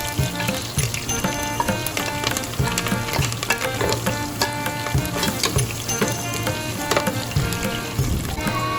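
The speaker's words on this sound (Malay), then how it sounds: "Tumiskan bawang besar, halia, bawang putih, serai dan daun kari sehingga kekuningan dan naik bau." Onion, ginger, garlic, lemongrass and curry leaves sauté in hot oil for a beef curry, giving a steady, dense sizzle and crackle close up, with no talking.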